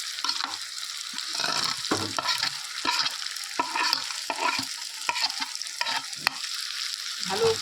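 Fried paneer being stirred into spiced cauliflower and potato in a hot pan, a steady close sizzle with repeated scraping strokes of a spoon throughout.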